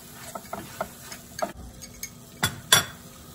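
Spiced vegetables with Kashmiri red chili powder, garam masala and salt being stirred in a pan, with a few quiet scrapes and soft clinks of a spoon against metal, the louder strokes bunched near the end.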